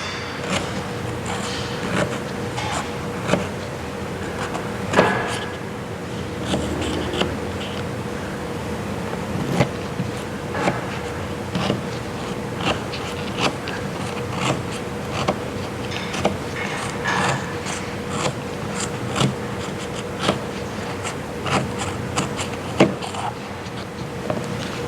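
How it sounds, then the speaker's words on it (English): A regular utility knife saws into the metal casing of an engine oil filter, producing repeated small scraping clicks and taps at an uneven rhythm over a steady hum, close up. "Now let me cut this filter open, just using a regular utility knife."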